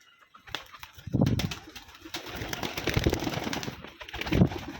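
Rajshahi Giribaz pigeons in a loft, with soft cooing and rustling wing flaps close by, bursts of activity rising and settling over a few seconds.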